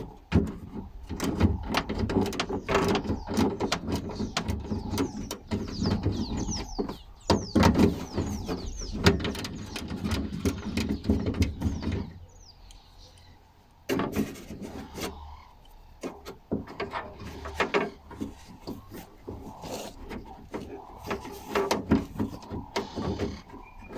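A screwdriver backing a screw out of a vehicle key lock on an ISUZU KB 280, heard as close, dense squeaky rasping and clicking that pauses briefly midway, then resumes.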